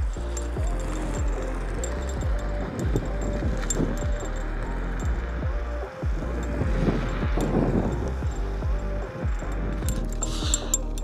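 An Apollo Phantom electric scooter climbs a steep hill flat out on a single motor, with steady low motor hum, rattling bumps and gusty wind noise close to the rider throughout.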